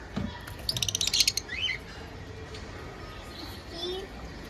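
Cockatiels chirp in a breeding pair's cage, giving a quick burst of bright, rapid tweets early on and then a few fainter calls over a quiet background.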